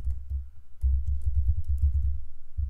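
Computer keyboard typing during a JavaScript coding lesson: a close run of soft, quick key taps over a low, steady rumble, with a brief pause about halfway through.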